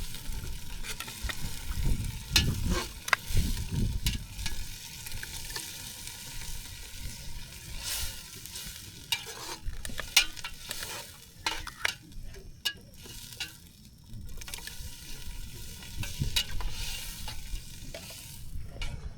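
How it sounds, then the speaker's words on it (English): Mud crab pieces sizzle and crackle in a hot pan, with intermittent stirring clatter and bursts of spattering, fairly close and steady throughout. "So, I'm going to take these mud crab bits and drop them in."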